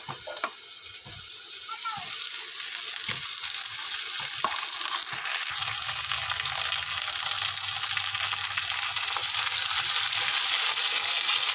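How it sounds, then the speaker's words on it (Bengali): Potatoes fry in a pan with a bright, constant hiss that swells after a couple of seconds, broken by occasional scrapes as they are stirred around for a bhetki fish-bone curry. "একটু নাড়াচাড়া করে নিচ্ছি তো আলুটা দিয়েও কিছুক্ষণ ভেজে নিয়েছি"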